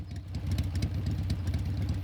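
A vehicle engine idles in Metal Gear Solid 3: Snake Eater, a steady low rumbling throb with a rapid rhythmic pulse, loud and close, with no voices over it.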